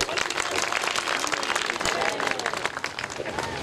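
Dense, loud audience applause at a spiritual festival gathering, with many hands clapping continuously and evenly throughout, filling the space with bright crackle.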